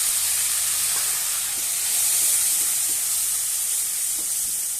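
A splash of water hits frying spice paste of browned onion, ground coriander and cumin, and salt for a fish curry with okra and potato, producing a continuous close hissing sizzle with no voices.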